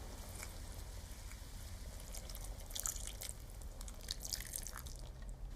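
About a cupful of water poured into a pot of chilli with cocoa, a quiet, steady trickle and drip of liquid, faint and close, with no voices.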